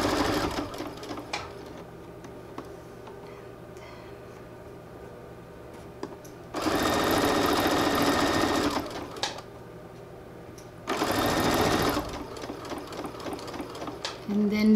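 A sewing machine locks a seam in two short, loud whirring bursts, set apart by quieter stretches of faint handling and light clicking.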